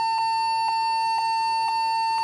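Lenovo G40-80 laptop emits a steady tonal beep at boot, a continuous high note with short brighter pulses recurring about every half second, loud and alone without any talk.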